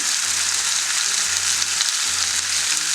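Osso buco, meat on the bone, browning in a frying pan with a little oil, giving a steady, close, continuous sizzle and crackle with no one talking.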